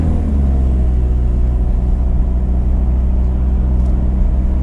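A 1990 Toyota HiAce 2.0-liter rear-wheel-drive van accelerating, heard from inside as a steady, loud low engine drone that rises slightly, with no talk.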